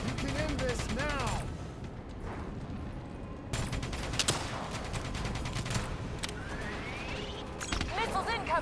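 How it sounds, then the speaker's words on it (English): Missile barrage in the Call of Duty Black Ops 3 campaign finale on Xbox One: dense, loud bursts of rapid gunfire and explosions roll continuously, with whooshing streaks of incoming missiles and voices shouting over the battle. "Mothership's launching missiles!"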